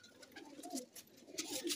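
Soft, low cooing of fighter pigeons in Taunsa Sharif, Pakistan, a few gentle throaty calls close by, with faint fluttering and rustling in between.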